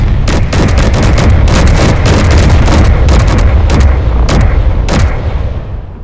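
Loud, dense barrage of railgun and weapons fire from a space battle in Space Engineers, rapid booming impacts and sharp bursts following one another for several seconds before easing off slightly at the end.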